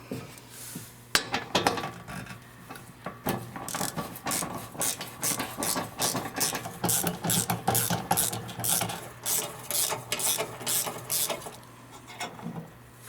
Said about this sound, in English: We'll use 10mm socket to remove all these bolts.